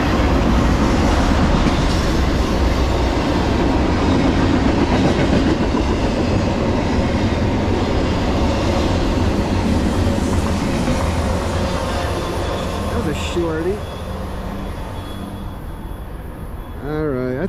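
An NS 288 freight train led by ES44DC locomotives 7561 and 7699 passes close by with continuous clickety-clack and rumbling wagons, which ease slightly toward the end with a few faint wheel squeals.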